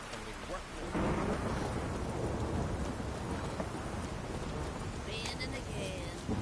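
Rain and thunder in The Witcher 3: a steady hiss of heavy rain with a rolling thunder rumble that swells about a second in and holds, loud and continuous, with game sounds layered on top.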